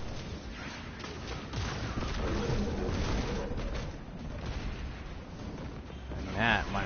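A tractor cannon fires in a video game, a dense run of heavy booming blasts rolling on for several seconds and ending in a sharper burst, with voices talking over it.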